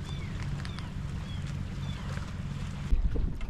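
A fishing boat sits on open water in strong wind before a storm, with steady low wind rumble and buffeting against the microphone, a low engine-like hum, and a louder gust near the end.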